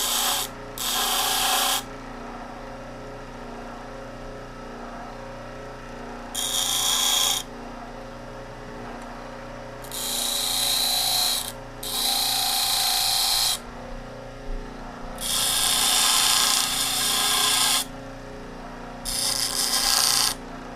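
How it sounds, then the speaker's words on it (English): A small two-speed bench grinder works a cut-off 10-32 bolt, putting cone edges on it in several loud bursts of rasping grinding, each a second or two long, with pauses and low motor hum between them. "I got a little 2-speed grinder. Just taking a little bolt, a 10 by 32 bolt that I cut off."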